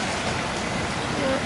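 Steady rain falls at a hillside getaway in Tagaytay, a continuous soft hiss of drops spread evenly through the clip, fairly quiet and close, with a faint tonal sound near the end and no clear talk.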